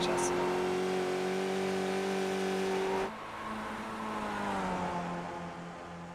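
Race cars down Conrod Straight at Bathurst in iRacing, Skip Barber series: a sustained high engine drone holding pitch, then dropping abruptly as another car's tone takes over and gradually fades, under commentary talk.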